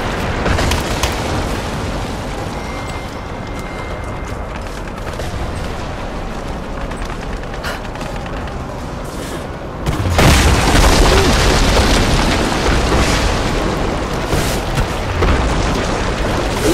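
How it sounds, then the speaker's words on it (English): Rise of the Tomb Raider video game explosions form a dense, continuous roar of booms and crackling blasts, loud throughout, swelling sharply about two-thirds of the way in with heavier rumbling bursts and no voices over them. "just explosions."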